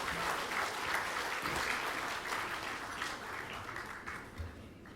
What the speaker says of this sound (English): another big round of applause for the Unit Trust of Fiji